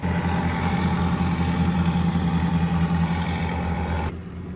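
Tugboat engines on a river give a loud, steady low roar with a constant throb, running unbroken before dropping slightly near the end.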